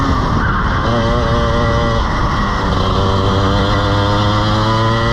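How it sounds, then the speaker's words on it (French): A kart engine whines loudly and steadily, its pitch dipping and shifting as it brakes into a corner, with tire scrub underneath. "il met quand même des beaux petits coups de frein"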